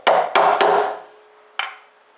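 A wood chisel is struck into a door to cut the recess for a bathroom lock, three quick sharp knocks followed by a fourth after a pause, each ringing briefly, close and loud.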